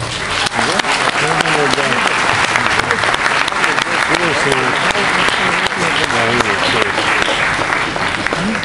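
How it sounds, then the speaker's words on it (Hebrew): A concert-hall audience in Rishon LeZion breaks into loud, sustained applause welcoming a singer and cantor to the stage, with voices calling out and talking over the clapping. "קבלו במחיאות כפיים"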